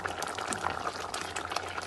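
Beef karahi with softened tomatoes simmers in a pot as its water cooks down, giving a steady close bubbling and sizzling hiss with small pops throughout, no voices present.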